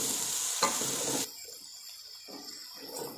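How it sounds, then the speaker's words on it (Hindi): Carrots with crushed black pepper are stirred in a cooking pan, giving a steady close sizzle and scraping that runs loud for about a second before dropping to a softer, intermittent frying hiss. "इनको मिक्स करते हुए हम कुक करेंगे"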